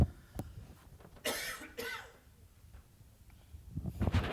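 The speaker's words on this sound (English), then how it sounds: "got this cough" A few close coughs, two harsh bursts followed by quieter throat noises, over a faint room background.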